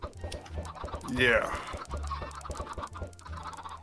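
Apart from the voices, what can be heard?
chickens clucking, from video game Minecraft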